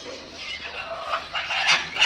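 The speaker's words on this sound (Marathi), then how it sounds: "या खुराड्यामध्ये सात कोंबड्या माझ्या राहत होत्या" Brief burst of hens clucking and squawking in a coop nearby, busy overlapping calls over roughly two seconds with no speech.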